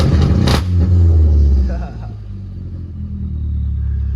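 A Nissan 240SX engine with launch control holding against a 2,800 RPM rev limiter rumbles loudly and steadily up close, with a sharp burst early on before settling into a deep, even drone.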